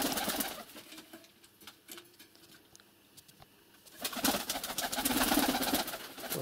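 Pigeons coo and call near a feeding spot indoors, where a pigeon chick is being fed, with soft bird sounds and faint wing movement, growing louder and busier in the last few seconds.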